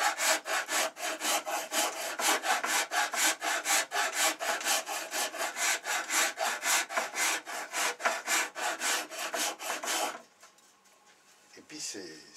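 The coarse side of a Japanese rasp files soft wood in fast, even back-and-forth strokes, loud and close for about ten seconds, then stops and leaves a few faint handling sounds.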